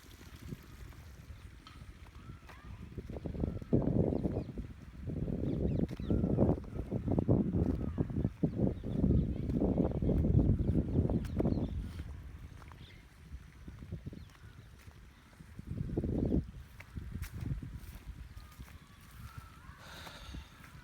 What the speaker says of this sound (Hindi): देखिए इतनी तेज़ी से पानी आ रहा है